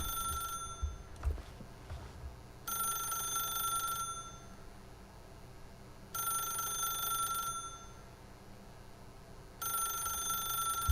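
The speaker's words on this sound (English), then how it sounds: "then pick up the phone" Old-fashioned telephone bell in the video game The Stanley Parable, ringing in three long bursts separated by pauses, clear and steady against a quiet room with faint ambient hum.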